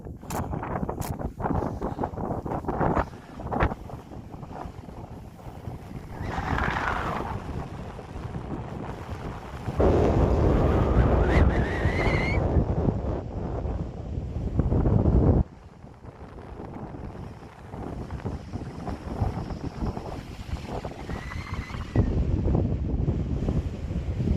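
Strong gusty wind buffets the microphone in roaring surges on a mountain summit, rising and falling over the whole stretch with no speech.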